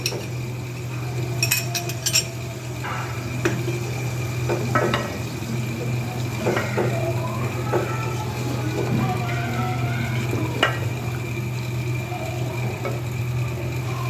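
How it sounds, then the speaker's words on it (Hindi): Garlic ginger paste frying in a pan for keema biryani, with a steady low sizzle under repeated stirring scrapes and light utensil clinks against the pot, close and continuous throughout. "अब यहाँ पे मैं लहसुन अदरक का पेस्ट शामिल कर दूँगी। थोड़ा सा हम भुनेंगे"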